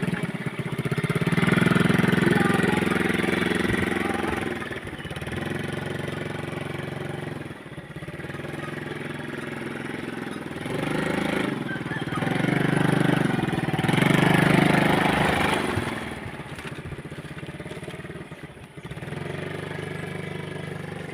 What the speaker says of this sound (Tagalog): nag-aaral magmotor